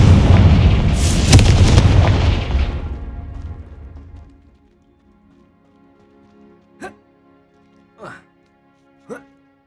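In the Hogwarts Legacy video game, a Confringo blasting spell goes off as one loud, close, rumbling explosion that decays over about three seconds, followed by a few short, sharp pops in near silence.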